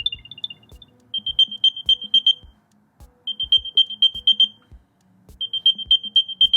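A second-generation Apple AirTag sounds its alert in bursts of rapid, bright chirping beeps separated by short gaps, repeated three times, clear and close with no talking.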